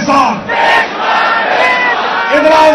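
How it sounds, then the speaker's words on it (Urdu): A large crowd at a PTI jalsa in Lahore chants a political slogan in unison, a loud, massed roar of voices rising and falling across two swells. "تو پھر تمہارے نعرے کا جواب آنا چاہیے، عمران تیرے جانثار"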